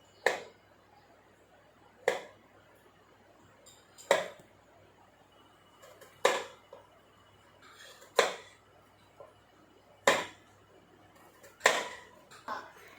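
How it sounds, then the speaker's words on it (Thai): A knife chops papaya into small pieces for a fruit salad, each cut landing as a sharp, crisp knock on the board at a steady pace of about one every two seconds, seven in all, close and clear with no talking. "เราเอามีดนะฮะหั่นมะละกอให้เป็นชิ้นเล็ก ๆ"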